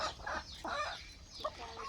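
Native village farm hens clucking in short, repeated bursts close by, a busy run of several calls with no talking.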